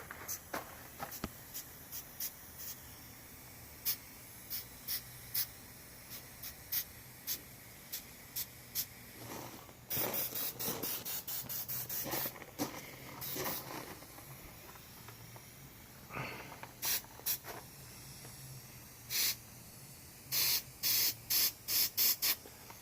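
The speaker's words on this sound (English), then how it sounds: "my airbrush is barely bringing some paint out" Airbrush spraying fine touches of paint onto the scales of a taxidermy spotted bass: faint, close bursts of soft hiss, short puffs in irregular rhythm that cluster into quicker rapid spurts near the middle and end.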